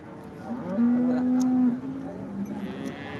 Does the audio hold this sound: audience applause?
no